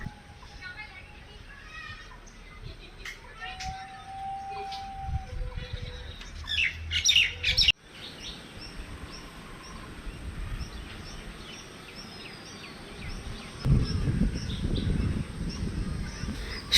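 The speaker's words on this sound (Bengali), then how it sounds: "কি সুন্দর পাখির ডাক খোলা আকাশের নিচে" Birds call outdoors under an open sky on a late afternoon, scattered chirps and tweets at a distance, with a few louder honking calls, over wind and background noise.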